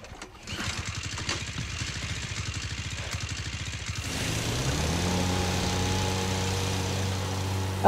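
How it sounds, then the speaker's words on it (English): A rusty boat engine in Resident Evil 4 Remake chugs in rapid, rough pulses, then catches and settles into a steadier, rising drone that runs loud and close to the end, with no talk. "that engine is pretty rusty"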